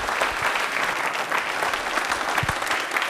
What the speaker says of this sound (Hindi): ईशांत के लिए एक बार तालियां हो जाए